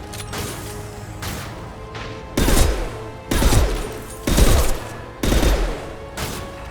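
Mass Effect 2 weapon fires in four loud, evenly spaced bursts of rapid shots, each roughly half a second long, with fainter crackling shots and impacts between them.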